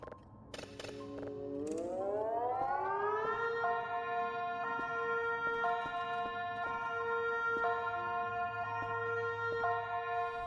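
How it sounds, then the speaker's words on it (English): Blaring sirens sound across a forest in the Voices of the Void video game, a tone rising steeply then holding a steady wailing pitch, loud and sustained, with a few clicks at the start and no talk. "The sudden sound of blaring sirens fills the air."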